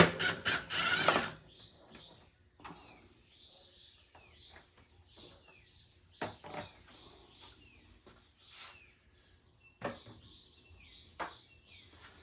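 A ratchet backing a 10 mm bolt out of a Honda Recon ATV, quiet bursts of fast clicking repeated in short pulls with pauses between, close and faint, no talking.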